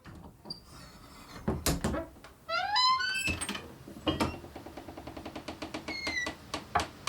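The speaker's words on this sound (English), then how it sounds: "So this is the sound of the cabin door." A wooden hinged cabin door creaks open with a rising, bird-like squeak, followed by clunks and a rapid series of ticking rattles, close and fairly loud with no voices.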